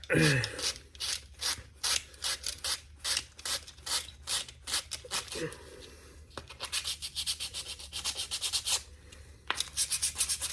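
Hand sanding a layer of lacquer off a costume prop, rhythmic back-and-forth scratchy strokes, close and fairly loud, in bursts with a short pause midway.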